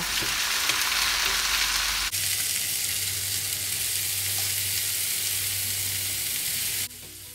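Diced potatoes and carrots sizzle and crackle steadily in hot oil with wilted garlic, loud and close, with a brief shift in tone as the vegetables are added partway through.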